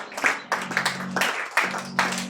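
A church congregation claps in bursts, several quick rounds of hand-clapping separated by brief pauses, fairly close and lively, with no speech over it.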